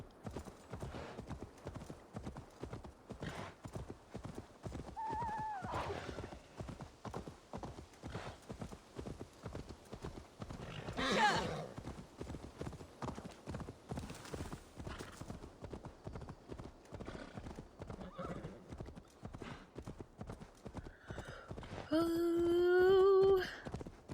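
In a video game, a horse's hooves clip-clop in a fast steady galloping rhythm as it runs away, continuous and fairly close, with a brief whinny rising near the end.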